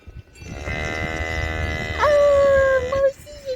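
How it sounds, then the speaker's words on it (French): A cow in an alpine pasture gives a long, loud moo that rises in pitch and holds before fading, heard close over a quiet outdoor background. "Bonjour la vache."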